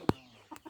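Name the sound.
hens clucking in a coop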